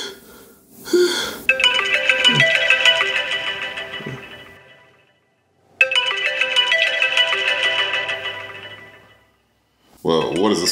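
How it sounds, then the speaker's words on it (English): A phone ringtone for an incoming call rings loudly in two long electronic bursts separated by a pause, with a voice briefly before and after it. "what is this phone call?"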